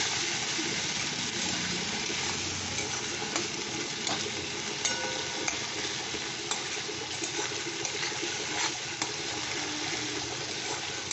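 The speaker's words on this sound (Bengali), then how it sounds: "এটা তো অনেকটা পেঁয়াজ রসুনটা ভাজা ভাজা হয়েছে" Onion and garlic paste fries in a pan for an egg curry, a steady close sizzle running throughout with scraping stir strokes and light clinks of a utensil against the pan.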